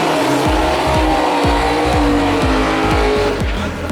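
A white Nissan GT-R tears through a quarter-mile drag race run, its engine roaring loudly and continuously with a rapid series of sharp upshifts, each gear change marked by a rising and falling pitch sweep.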